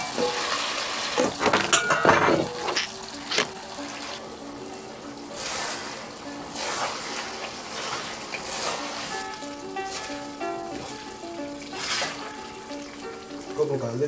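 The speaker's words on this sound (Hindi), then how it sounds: "ऑयल गर्म हो गया, इसमें अब जाएगा चिकन।" Chicken pieces dropped into hot oil in a pan for a cumin chicken stir fry, with a bright crackling sizzle and a few clinks of utensils, loudest at the start and then settling into a steady, fairly close fry.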